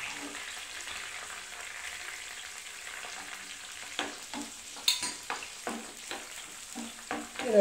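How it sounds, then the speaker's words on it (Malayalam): Garlic and green chillies sauté in oil with a soft, continuous sizzle, joined later by louder scraping and stirring strokes close by. "രണ്ടും കൂടി എണ്ണ കിടന്നിട്ട് നല്ലതൊന്ന് ഒന്ന് വഴഞ്ഞ് കിട്ടണം"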